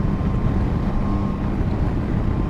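Yamaha Tracer 9 GT+ motorcycle engine purring steadily while riding on small country roads, a continuous low rumble mixed with heavy wind buffeting the microphone throughout.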